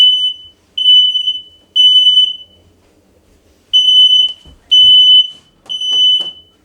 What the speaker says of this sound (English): we'll see what she does when we hear the smoke alarm